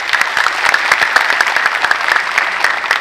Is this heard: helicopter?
no